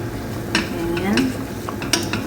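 Chicken tikka biryani being mixed in a pot, with a steady soft stirring rustle, a few sharp scraping clinks of the spoon on the pot, and a quiet sizzle underneath.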